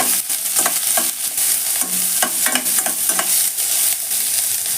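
Thinly sliced onion fries with urad dal and chana dal in a pan, a continuous sizzle broken by quick, rhythmic spatula scrapes and stirs, close and steady.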